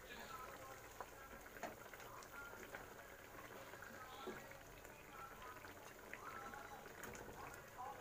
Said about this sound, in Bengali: দেখো বন্ধুরা, ঝোল খুব সুন্দর ফুটে গেছে।